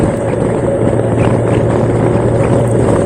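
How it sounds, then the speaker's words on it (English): A loud, continuous exhaust drone from a Honda Rune's flat-six engine, deep and raspy, holding steady with no talking. "it's just a real nice raspy sounding exhaust"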